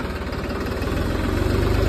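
A new special-edition tractor on MRF tyres, which gives off a little smoke, idles close by with a loud, steady low throb and a faint knocking pulse, and no voices.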